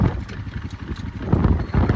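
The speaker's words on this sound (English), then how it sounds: "Ah, man, it's windy out here." Strong wind buffets the microphone outdoors on a cattle ranch, a continuous blustery roar with uneven gusts and no speech.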